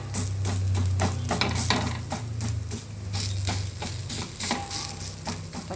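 Fenugreek leaf adai cooking on a stove over low heat, a steady close sizzle with soft scraping and stirring noises running through.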